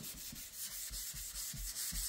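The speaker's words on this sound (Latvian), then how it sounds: "liekam virsū 800 un atkal tieši tādā pašā veidā saslīpējam, nespiežot visu." Sandpaper of 800 grit rubs back and forth over primer on a car door, a steady rhythmic scrubbing with soft strokes about every half second, close and alone.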